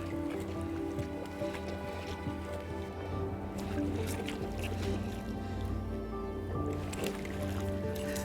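A popper lure is given very short jerks across the surface of the sea from a rocky shore, making soft splashing and bloop sounds over a steady wash of waves and wind throughout.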